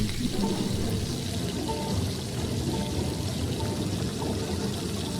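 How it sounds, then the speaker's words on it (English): Steady bubbling of water in a dark animated scene, a dense continuous gurgle that stays loud and even throughout with no pauses. "Bubbling."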